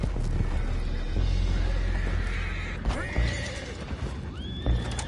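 Horses in a video game whinny loudly several times, with faint hoof clatter under a steady low rumble of background noise.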